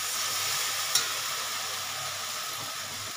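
Chicken kasa sautéed slowly over a low gas flame, giving a steady, even sizzle with a faint hiss, one small clink near the start, and no voices.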